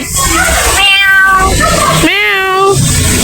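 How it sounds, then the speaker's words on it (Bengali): A cat meows twice, loud and close, with a shorter call followed by a longer, drawn-out one over faint background noise. "মিয়াও"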